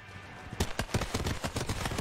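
A horse gallops in the video game Totally Accurate Battle Simulator, with a steady run of hoof thuds coming in after a quiet start. The thuds are fairly faint and carry on without speech.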